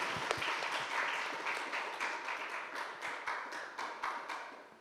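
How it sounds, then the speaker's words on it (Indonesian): Students at a vocational high school event in a school hall clap together in a steady, sustained round of applause that fills the room, with faint voices blended underneath. "Boleh tepuk tangan dong untuk kita semua di sini dong."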